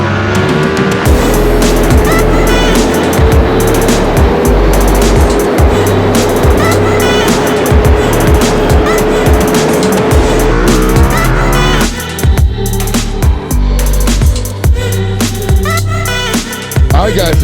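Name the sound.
motorcycles being ridden out of the garage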